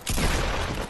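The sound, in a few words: pump shotgun shot in a video game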